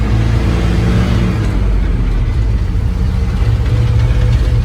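An old Chevy K40 truck with a flat wheel drives in second gear, its engine giving a loud, steady, rumbling drone close by that holds throughout without pause.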